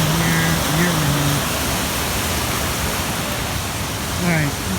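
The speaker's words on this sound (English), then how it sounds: "Beautiful waterfalls" A waterfall at Big Bend Hot Springs gives a steady, loud broadband rush that fills the whole clip, while a voice talks briefly near the start and again near the end.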